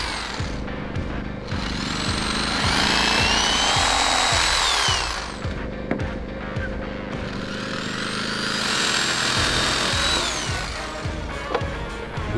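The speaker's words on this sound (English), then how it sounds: "Use a jigsaw to cut the bars to the required length" A jigsaw cuts timber bars for a house frame, its rapid reciprocating blade buzzing loudly and close in two sustained cutting runs, with a rising whine during each cut and a short pause between them.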